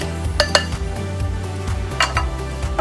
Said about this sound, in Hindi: सबसे पहले शेकर, इसमें तकरीबन, वैसे क्रश करना था लेकिन क्रश करने के लिए मेरे पास है नहीं, तो I have taken 4 cubes of ice.